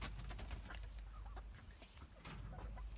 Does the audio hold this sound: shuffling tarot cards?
no